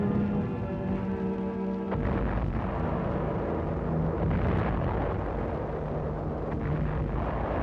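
Wartime mortar fire hitting an ammunition dump during the WW2 Battle of Angaur, a dense, continuous roar of rumbling blasts and crackling explosions, loud and sustained throughout.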